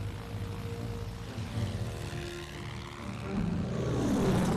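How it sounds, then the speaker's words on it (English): British Swordfish biplane bombers flying on a wartime attack, with a steady propeller-engine drone that swells slightly toward the end, fairly faint and continuous with no talk. "the aircraft carrier HMS Ark Royal has dispatched a second wave of airplanes, British Swordfish bombers."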